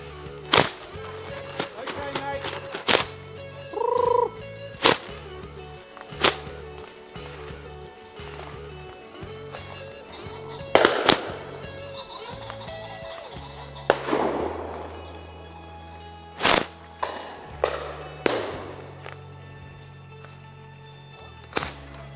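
Shotguns fire on a pheasant shoot at an estate on the first day of the season, with a scattered series of sharp reports, some close and loud and others more distant, over outdoor background noise.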